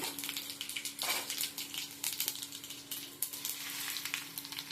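Mustard seeds, cumin, fenugreek and urad dal fry in hot oil, giving a dense, steady sizzle with crackling pops spread evenly throughout and no talking.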